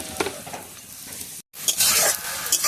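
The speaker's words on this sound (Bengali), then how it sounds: "রসুন কুচি, পেঁয়াজ কুচি, লঙ্কা সব লাল লাল করে ভাজা হয়ে গেছে" Chopped garlic, onion and chili sizzle steadily in a hot pan with oil as a spoon stirs through them, loud and close, broken by a brief silent cut midway, then stirring and sizzling resume more strongly.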